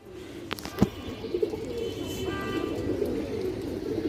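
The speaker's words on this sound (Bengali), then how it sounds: "খুবই ভালো একটা কবুতর" Pigeons coo softly in low, rolling murmurs, with a couple of sharp taps early on and steady background noise.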